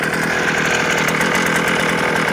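A Garden Trax gas-powered earth auger engine runs at a steady fast idle while warming up, a loud, buzzing small two-stroke drone heard close and alone.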